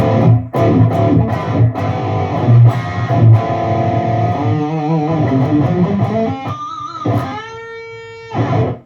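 Distorted electric guitar phrases ring out with lush reverb and echoing delay trails, notes smearing and repeating as they fade.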